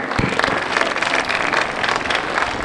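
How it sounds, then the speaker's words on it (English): A large crowd at a 2022 Connellsville Area High School graduation ceremony bursts into sustained, dense applause, steady and loud throughout with scattered cheers. "give yourself a round of applause"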